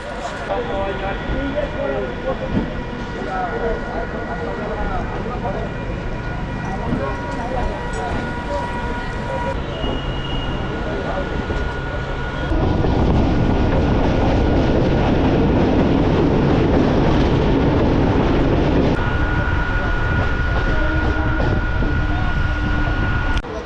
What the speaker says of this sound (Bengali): ট্রেন ছেড়ে দিয়েছে আমাদের রানাঘাট রেলওয়ে স্টেশন থেকে